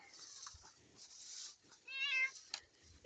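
Outdoors in a garden, a cat lets out a single faint meow against quiet background noise.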